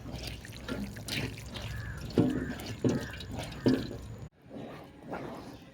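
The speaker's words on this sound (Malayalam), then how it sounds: "ഒന്നും കൂടെ വെള്ളം ഒഴിച്ചിട്ട് നമ്മൾ ഇതിലേക്ക് തന്നെ വീണ്ടും ഒഴിച്ചു കൊടുക്കണം" Water splashes and trickles into a vessel while making arrowroot powder, with a few louder pouring gurgles and faint background noise, then a brief drop into quieter trickling.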